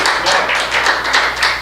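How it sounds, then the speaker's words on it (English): A room of forum attendees claps for a candidate as he arrives, a brief, close, lively patter of many hands with a low steady hum beneath it. "so that's why the applause, probably"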